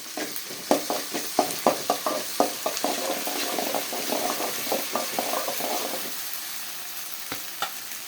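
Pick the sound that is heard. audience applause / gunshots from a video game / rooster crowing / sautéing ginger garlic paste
sautéing ginger garlic paste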